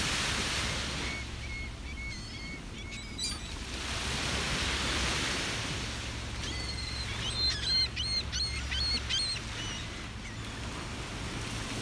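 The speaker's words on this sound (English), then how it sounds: "Lots of bird song." Birds sing and chirp in bright, repeated bursts at a beach, set against the steady roar of waves and surf that rises and falls throughout.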